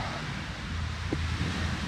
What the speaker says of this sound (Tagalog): kung maririnig niyo yung hampas ng alon sa dagat